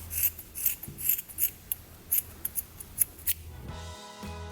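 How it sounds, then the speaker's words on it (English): Scissors snip through a sock in a quick series of about a dozen crisp, close cuts, then a brief rustle of fabric at the end. "take the other sock and cut off the front just past the heel area."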